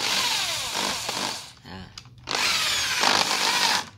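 A power drill drives a small self-drilling screw, of the kind used for light steel, into wood, whining loudly in two close bursts separated by a brief pause.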